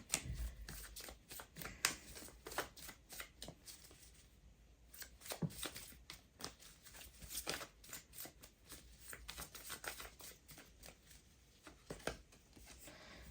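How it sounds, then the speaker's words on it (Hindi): A deck of tarot cards is handled and shuffled quietly and up close, with rapid soft riffling clicks and flicks running continuously. "let's take one more card from this deck only."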